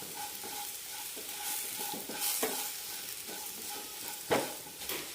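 Colocasia masala stir-fries on low flame in a pan, steady quiet sizzling under repeated stirring and scraping, with a couple of sharper clanks near the end and no talking.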